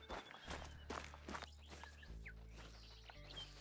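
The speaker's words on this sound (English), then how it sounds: "I can hear footsteps, and those are definitely pigs." Feral pigs' footsteps in the hunting video game The Hunter: Call of the Wild, several quick soft thuds on the ground over a low ambient hum, with faint bird chirps in the background.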